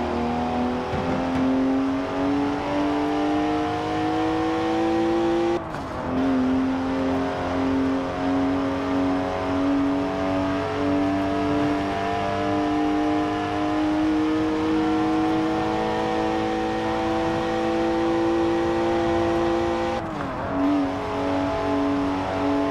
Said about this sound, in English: Three-litre straight six, 335 horsepower, two turbos, as much sideways action as you like.